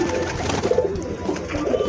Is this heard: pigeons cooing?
yes